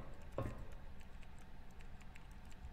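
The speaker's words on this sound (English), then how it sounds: "Whatever that noise is, that clickety-clackety noise," Faint clickety-clackety typewriter-like tapping in the video game Kraepelin, soft irregular clicks with a couple of louder knocks, quiet and somewhat distant.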